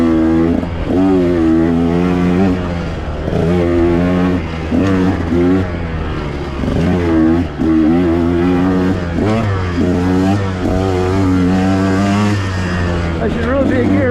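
A 2021 KTM 125XC two-stroke dirt bike engine drones and revs loudly while riding, pitch rising and falling with throttle changes; a rider talks over the engine.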